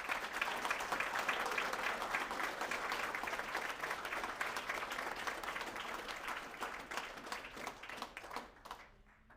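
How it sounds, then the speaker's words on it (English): An audience applauds retirees at a U.S. Army retirement ceremony at Fort Polk. The clapping is sustained and dense, then thins and fades out near the end. "please rise and honor our retirees with another round of applause"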